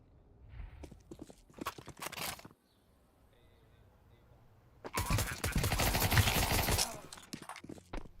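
Counter-Strike 2 match with a thrown flashbang: a few sharp clicks and thuds, a short quiet pause, then a loud, sustained burst of noisy crackling and hiss for about two seconds.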